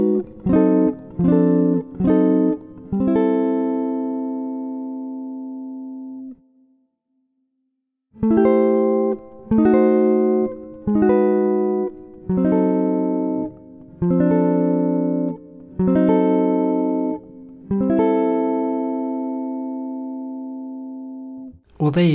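A clean jazz guitar plays a chord melody of sustained, ringing major sixth and diminished seventh chords in small groups, with a short pause midway before the chord sequence resumes.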